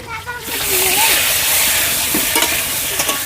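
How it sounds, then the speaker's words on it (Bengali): Potatoes fry in fresh mustard oil in a pan over a village clay stove, a loud, dense, steady sizzle with stirring scrapes and a brief voice-like murmur near the start. "আলু ভাজার সময় কিছুটা পরিমাণ মতো লবণ দিয়ে দেবো"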